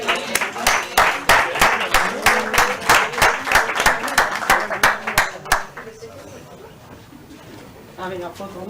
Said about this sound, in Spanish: un aplauso para ellos, ellas